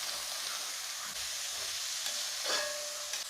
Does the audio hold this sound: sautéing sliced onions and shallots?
yes